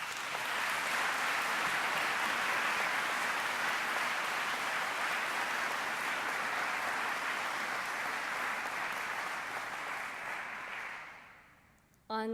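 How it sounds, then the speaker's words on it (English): An audience at a high school graduation ceremony applauds, a dense, steady roar of many hands that holds for about eleven seconds and then fades out. "Let's give them a round of applause."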